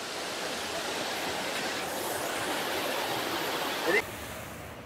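Water rushes steadily from the Faskhawa hidden waterfall near Alipurduar as a broad, even roar that fills the scene, with a brief knock just before it drops slightly near the end.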